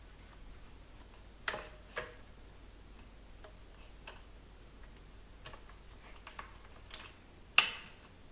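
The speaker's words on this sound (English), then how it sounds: "and they click into place." Pins on a Weber Q1000 portable grill cart frame snap into place during assembly, giving a few sharp, separate clicks spaced over several seconds against a quiet room.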